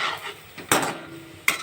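A lid clatters down onto a pot of sweet potato pitha soaking in syrup, with two sharp metallic clanks separated by softer kitchen rattles, close and alone without speech.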